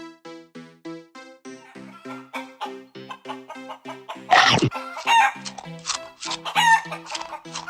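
Chickens cluck and crow in quick repeated calls, a sound effect in an animated Bengali ghost story, with one sharp burst of a louder crow midway as the rhythmic clucking carries on.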